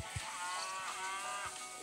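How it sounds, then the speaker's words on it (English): A few short, low cow moos from the game Hay Day sound faintly over a steady tonal background hum, spaced out at irregular intervals. "Look at them little cows."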